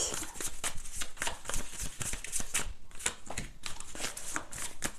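Tarot cards drawn and handled in quick succession, a dense run of crisp papery flicks and slides close up, with no talking over them.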